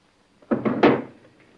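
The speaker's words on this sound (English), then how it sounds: "one of the other drawers." A desk drawer slides open and bumps shut with a couple of quick wooden thuds close by, followed by a short fading rattle.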